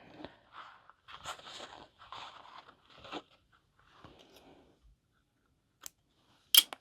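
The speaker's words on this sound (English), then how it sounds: "then I trim these threads just a little bit" Scissors trim loose sewing threads on a boxy fabric bag, a series of quiet close snips and crunchy cuts in short bursts, then pauses and a couple of sharp clicks.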